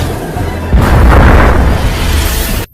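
A film explosion of a gas tank and dynamite on water, meant to kill piranhas: a sudden loud boom that swells into a roaring blast and rumble, then cuts off abruptly.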